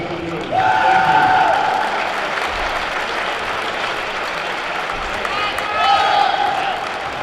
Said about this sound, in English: Please join me in giving a well-deserved round of applause for our parents